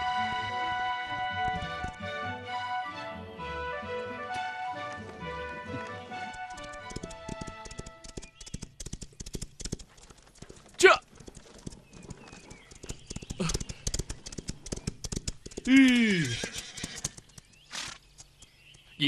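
Horse hooves clip-clop steadily through a period costume drama scene as bandits make off with stolen horses, the trotting joined by a loud neigh near the end over a fading musical score.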